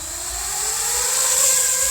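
Feima Robotics J.ME drone spinning up for launch, a steady high-pitched propeller whir that rises slightly and holds loud and close, with no talking.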